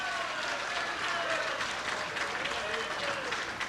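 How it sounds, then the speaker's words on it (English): A crowd applauds a strike at a candlepin bowling competition, sustained clapping with a commentator's voice over it. "Oh, strike for Rico Baldinelli"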